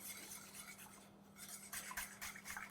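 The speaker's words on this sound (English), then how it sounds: "Then we keep stirring it while it's still cold." Cinnamon being stirred into cold juice with a spoon in a pot, giving a faint, steady scraping swirl with light clinks, close and quiet, no talking.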